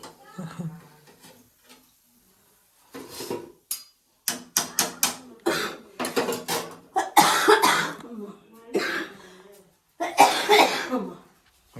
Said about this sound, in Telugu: ఏందోనమ్మ నీ దగ్గు నువ్వు